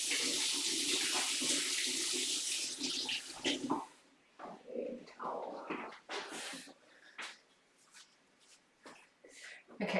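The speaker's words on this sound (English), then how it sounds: "let me just wash my hands" Running tap water splashing into a kitchen sink during hand washing, loud and steady for about four seconds before cutting off, followed by quieter kitchen sounds and talk.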